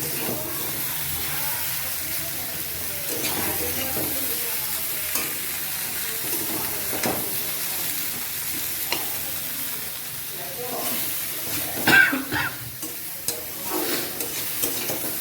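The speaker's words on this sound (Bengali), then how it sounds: "ভেন্ডিটা দিয়ে একটু নাড়াচাড়া করে এটার মধ্যে আমি জল দিয়ে দেবো" Okra is stirred in a hot frying pan for a Bengali sidol curry, giving a steady sizzle with scraping spoon strokes and a louder clatter of stirring near the end, with no talk.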